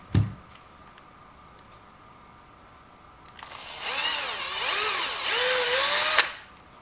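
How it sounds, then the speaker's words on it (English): After a quiet pause, a power drill whirs up to bore out a bent hole in an aluminium wheel hex for a WLToys 144001 RC car, its pitch rising and dipping for about three seconds before stopping. "So I'm going to have to drill that out again."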